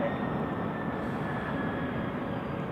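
A Pilatus PC-24 Swiss-made jet at Zurich Airport gives a steady, distant engine roar and rumble, even and unbroken across the short stretch.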